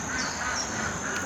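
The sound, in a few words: ducks quacking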